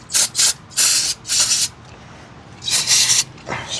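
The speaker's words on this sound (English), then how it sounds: "spray the threads on this back side here and wipe them out" Several short hissing bursts from a lubricant spray can on threaded parts of a 2013 Honda Civic Si, some quick and some longer, sprayed up close with brief pauses between them.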